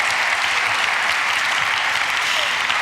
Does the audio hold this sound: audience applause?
yes